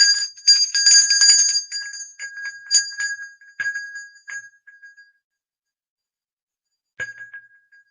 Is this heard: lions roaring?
no